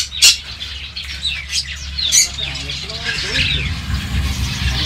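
Many caged birds chirp, tweet and squawk together inside a bird shop, with loud sharp calls over a busy background and a person talking.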